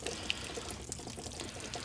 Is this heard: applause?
no